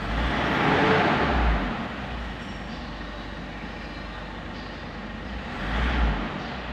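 Ford Everest engine with delayed throttle response, droning low and steady, swelling louder near the start and again near the end as the revs rise sluggishly.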